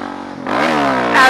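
A supermoto motorcycle engine idles roughly, then revs sharply with a rising, buzzy pitch that holds high and climbs again at the end, loud and close.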